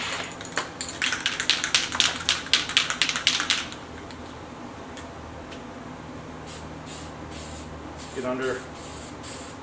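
Rust-Oleum hammered copper spray paint is sprayed from an aerosol can in quick, repeated short hissing bursts at a workshop. After that come quieter bursts and a brief spoken phrase.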